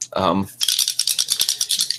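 Dice clatter in a cupped hand, a quick series of sharp rattling clicks right after a brief spoken word.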